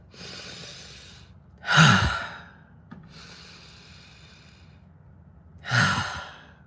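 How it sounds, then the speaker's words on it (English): A person takes slow, deep breaths, two loud close inhales with sighing exhales between them, separated by several seconds of quiet breathing. "Let's take a breath."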